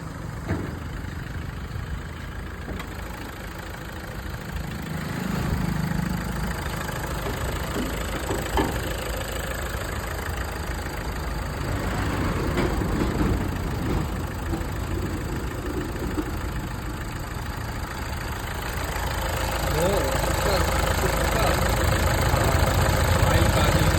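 A used car engine in very good condition idles nearby with a continuous low running hum, some faint knocking and light clatter, and the level swells slightly toward the end.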